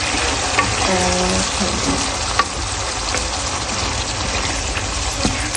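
Masala frying in a covered pot over low heat for handi kebab: a loud, dense, continuous sizzle and crackle with occasional faint clinks, close and steady, with no one talking.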